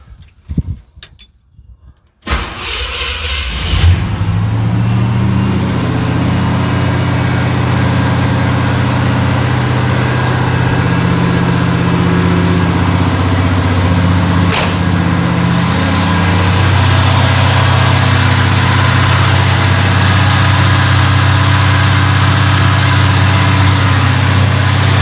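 A squarebody truck with a freshly tuned carburetor has keys jangle, then the engine cranks and catches, settling into a loud, steady low idle that runs on with no talk.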